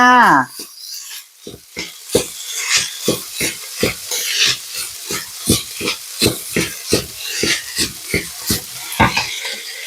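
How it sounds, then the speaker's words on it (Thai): Fried rice with shrimp paste and mackerel is stir-fried fast with sugar, seasoning powder and sauce, a spatula scraping the wok in a steady rapid rhythm of loud, close strokes over a continuous sizzle. "ผัดเร็วๆให้เข้ากันเลยค่ะ"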